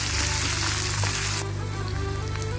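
Onions sizzling in hot oil with ginger, garlic and cumin, a dense continuous close frying crackle that drops to a quieter simmering hiss partway through.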